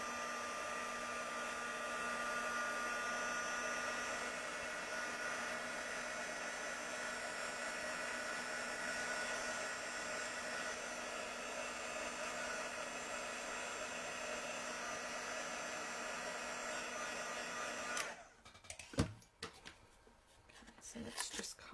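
A heat tool blows steadily and loudly for about eighteen seconds while drying watercolour on shimmery white cardstock, then cuts off, leaving some handling rustles and bumps.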